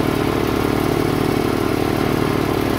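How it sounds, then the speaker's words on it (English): A Rol-Air air compressor runs steadily, warming its oil before an oil change, with a loud, close, rapid rhythmic engine-like chugging and no talk. "Alright, so I got the compressor running."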